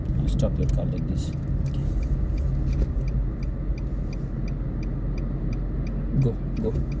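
A car is driven and brought to a stop during a driving lesson, with a steady low engine rumble throughout and faint regular ticking like an indicator. An instructor talks over it.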